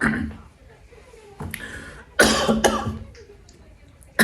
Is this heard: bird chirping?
no